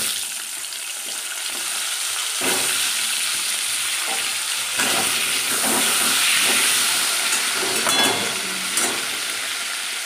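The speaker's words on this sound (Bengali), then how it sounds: "এবারে আলুটা ভেজে নেব।" Potatoes frying in a pan of hot oil, a steady broadband sizzle and hiss close by, with occasional louder bursts and stirring scrapes; no voices.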